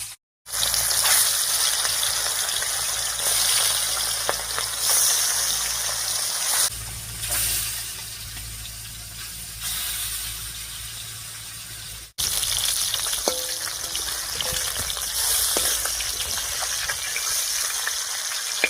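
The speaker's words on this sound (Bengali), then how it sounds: "এবারে কড়াইয়ে সর্ষের তেল দিয়ে মাছগুলো ভেজে নেব।" Snakehead fish frying in mustard oil in a wok, a loud continuous sizzling hiss with brief breaks and shifts in intensity, no talk over it.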